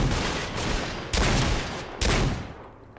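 A hunting shotgun fires in Fallout 4: three heavy, booming blasts roughly a second apart, each followed by a rumbling tail, loud and close with no talking over them.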